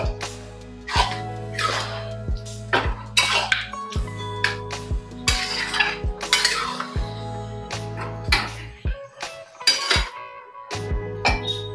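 A spoon stirs ghugni with turmeric in a metal cooking pot, giving loud, repeated clanks and scrapes in an uneven rhythm, close by, with brief pauses between strokes.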